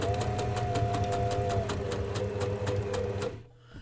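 Sewing machine stitching pink fabric, a fast steady mechanical chatter with regular needle clicks and motor whine, close and continuous, stopping abruptly near the end.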